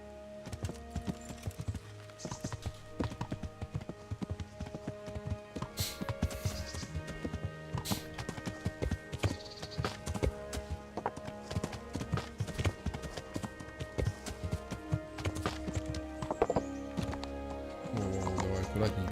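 Horse hooves clip-clop steadily in the medieval game Kingdom Come Deliverance, with occasional neighs and whinnies over game ambience and music, and someone talking quietly now and then.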